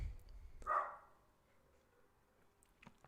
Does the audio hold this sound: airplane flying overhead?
no